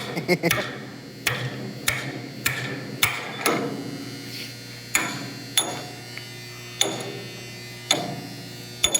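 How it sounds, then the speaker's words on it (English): Sharp hammer blows strike a rivet in a workshop, about a dozen loud metallic hits at irregular intervals, each ringing briefly over a constant low mains hum. "You could hit it with a soft hammer or hard hammer."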